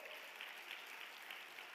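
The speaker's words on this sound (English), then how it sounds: "So really give him a big hand of applause." Applause from a live conference audience, a steady, fairly faint wash of clapping heard at a distance, even in level throughout.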